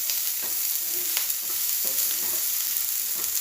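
Vegetables, tomato and okra, fry in coconut oil in a large pan while being stirred, giving a steady close sizzle with scraping and clinking of the spoon against the pan, and no talking.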